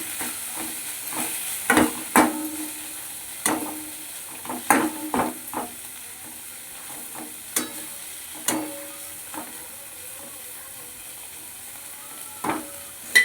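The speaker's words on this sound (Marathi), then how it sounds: "थोडं शेंगदाण्याचं पीठ वाटून घेतलं, शेंगदाण्याचं पीठ टाकायचं, असं हलवायचं." Ground peanut flour stirred into a frying pan, with a faint steady sizzle broken by scattered scraping strokes of a spoon against the pan, close and unaccompanied by voices.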